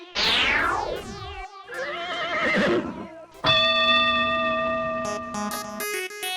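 Cartoon horse neighing at a horse race: several loud whinnies in a row, a falling tremolo followed by processed, effect-laden neighs that ring with steady harmonic tones, with no talking.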